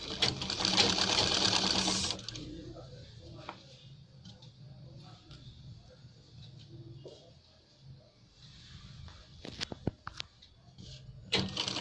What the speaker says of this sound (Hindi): इस पे हमने लब की सिलाई लगाना स्टार्ट किया